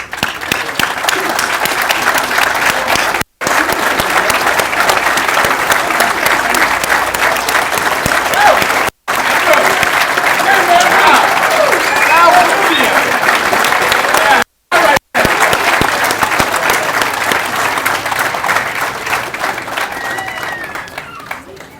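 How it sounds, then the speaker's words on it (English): Loud, sustained applause from a large standing crowd at a graduation ceremony, clapping steadily and densely with a few abrupt cuts in between. "Would you please stand and let's give them a big round of applause"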